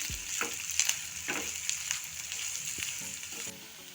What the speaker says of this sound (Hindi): अब इसमें हम कटा हुआ प्याज डाल देंगे। प्याज को गुलाबी होने तक भून लेंगे।